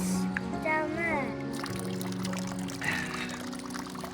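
Fresh spring water pouring and trickling from moss at a Bavarian location, a steady close splash under a voice that speaks and hums throughout.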